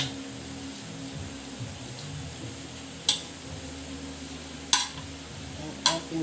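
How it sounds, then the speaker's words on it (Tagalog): Three sharp plops of taro pieces dropping into a boiling pot, spaced a second or so apart, over a steady low bubbling. "huhulog ko na po din ang ating gabi"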